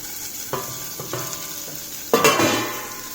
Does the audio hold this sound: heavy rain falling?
no